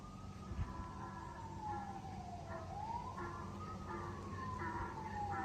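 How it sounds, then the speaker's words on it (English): Distant emergency siren wails slowly up and down, faint but steady, over a low background hum outdoors on a farm. "I hear sirens in the background."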